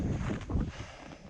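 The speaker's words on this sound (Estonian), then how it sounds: "Tuul." Wind blowing outdoors on a frozen lake in -15 degree winter weather, a steady broadband rush with gusty swells, fairly loud and continuous throughout, with no clear voices.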